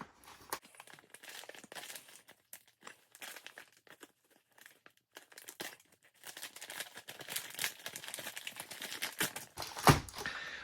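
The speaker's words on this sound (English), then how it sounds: "So let's tear this open and see what we got." An MRE ration pouch being torn and crinkled by hand at close range, with scattered bursts of plastic crackle and rustle that grow busier toward the end, with no talking.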